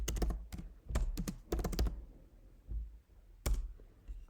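Code is typed on a computer keyboard in quiet, close clusters of crisp key clicks, with short pauses between the bursts.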